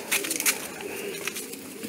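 Racing pigeons in a loft, with soft low coos and a few wing flutters close by under a faint background hum.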